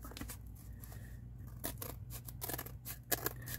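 Scissors snipping paper while trimming a handmade journal page, a series of quick crisp close cuts in an uneven rhythm against a quiet room, with no talking.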